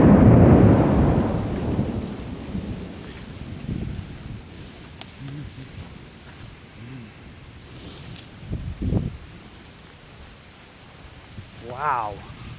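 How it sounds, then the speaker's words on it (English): Severe thunderstorm during a tornado in Davie, Florida: a loud thunder rumble at the start fading under steady rain and wind, with more distant rumbles later. "Serious storm that came through."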